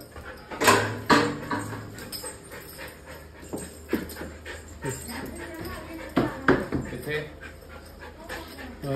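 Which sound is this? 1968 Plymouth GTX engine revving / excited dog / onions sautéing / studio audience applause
excited dog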